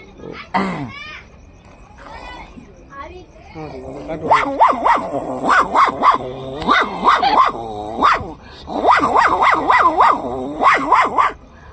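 Small newborn puppies bark and yip in quick high-pitched bursts, several overlapping, close and loud, with a few whimpers early on.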